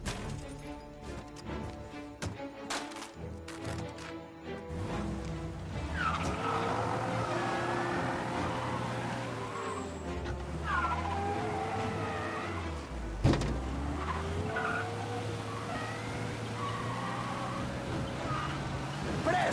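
A car drives in Mafia: Definitive Edition, its engine droning and shifting pitch steadily with tire skids and squeals scattered through, a few sharp bumps and a crash-like hit near the middle, plus faint game voices.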